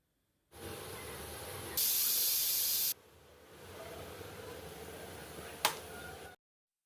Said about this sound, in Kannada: ಇದನ್ನು ನಾನು ಹಿಂಗೆ ಕ್ಲೋಸ್ ಮಾಡಿಬಿಟ್ಟು 1 ವಿಜಿಲ್ ಹಾಕ್ಸ್ತಾ ಇದ್ದೀನಿ.